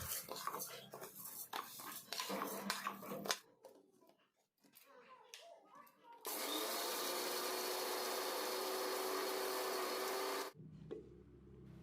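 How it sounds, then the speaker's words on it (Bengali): A kitchen mixer grinder whirs steadily for about four seconds while grinding roasted cumin and coriander for garam masala, after some clattering and handling sounds, then stops abruptly. "এবার এটাকে মিক্সিং জারে দিয়ে গুঁড়ো করে নেব।"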